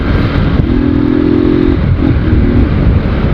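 A Honda CG motorcycle engine runs with no air filter, a loud, steady close-up idle rumble with a rough, throaty tone and a brief hum rising over it.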